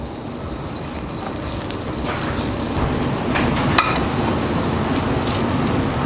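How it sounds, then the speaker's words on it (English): Beets sauté in a little oil in a pan, giving a steady close sizzle that swells slightly as they settle, with a sharp clink of a utensil partway through and no talk. "I'm going to saute the beets a little bit. Again, a little bit of oil. And beets go in."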